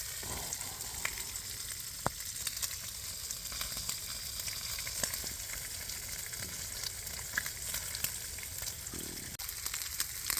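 Tomatoes and onions fry in a pan at an outdoor winter campsite in snowy woodland, giving a steady, close sizzle throughout with a few faint clicks and no talk.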